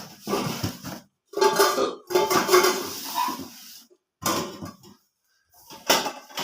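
Metal containers and pots clank and clatter as they are handled beside a pressure cooker in a rural tribal kitchen, in several short bursts of knocking and scraping separated by brief pauses, close and fairly loud.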